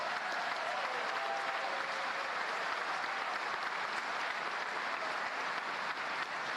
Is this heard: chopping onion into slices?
no